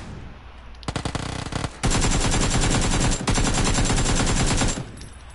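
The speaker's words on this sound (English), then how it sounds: "Shoot at him too, bro." Automatic gunfire in the video game PUBG, a burst of rapid shots followed by long sustained loud rattling streams, close and dense, with no talk over it.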